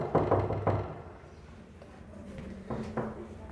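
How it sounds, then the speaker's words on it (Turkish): Knuckles rap on a door in two short bursts, a couple of firm knocks at the start and another pair near the end, fairly close and clear with faint room noise between. "Hemen kapıyı çalıyoruz"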